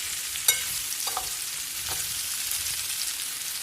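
Fish and vegetables frying in a pan make a continuous even sizzle with a few sharp clicks of stirring near the start. No one speaks.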